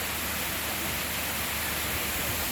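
Waterfall in Thailand, a dense unbroken roar of rushing, splashing water that holds steady and loud throughout with no voices over it.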